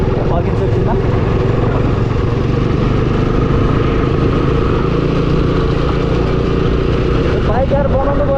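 A motorcycle engine idles close by with a steady mid-pitched throb and a light mechanical rattle from a noisy cam chain, with a voice talking over it.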